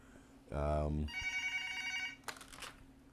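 A telephone rings indoors with a loud, sharp electronic ring, then a brief melodic tone and a short chirp, all close and clear.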